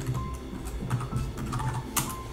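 Someone types on a computer keyboard, a quick, uneven run of close key clicks with no talk over them.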